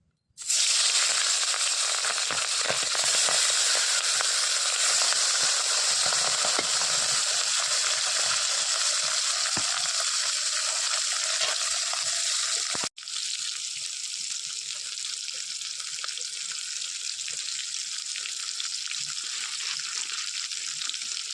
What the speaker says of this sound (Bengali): তেল পটকা যে ভাজা হয়ে গেছে, তুলে নেব।